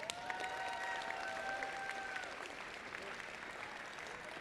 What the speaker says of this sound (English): Can I get a big round of applause for our control systems advisor,